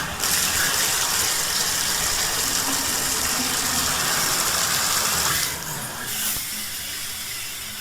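Water rushes steadily from a hotel shower massage head with a loud, broad hiss, briefly changing in tone near the end as the flow shifts.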